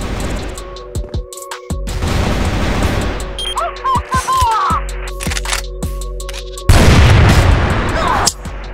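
Barrett sniper rifle fire in a ranked video game match: loud booming shots and blasts with in-game effects and bursts of noise, sharp impacts scattered throughout and a heavier burst near the end.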